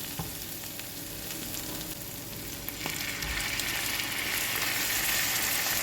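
Spice paste frying in a pan, with water poured in partway through, a steady loud sizzle and hiss that swells and brightens in the second half, with no talking.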